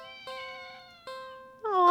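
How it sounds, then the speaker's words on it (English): A cat meows in a video game: two short, clear mews followed by a louder, rising third cry, heard on their own against near silence. "It's a kitty cat!"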